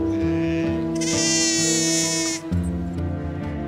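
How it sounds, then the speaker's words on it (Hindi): Several sheep bleat close by as they walk through a quiet open place in Andhra Pradesh, with a sustained, wavering call rising over the steady tones, which may include ringing bells. "बस ये जो भेड़ें इधर से उधर जब चल रही हैं तो इनकी घंटियों की बजने की आवाज़ आ रही है"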